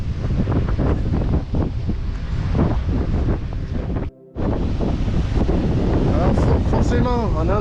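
Gusts buffet the microphone in a heavy, continuous roar on the uphill path toward the monument at Cap d'Agde. The roar cuts out for a split second midway and then returns just as strong, with a voice faintly underneath.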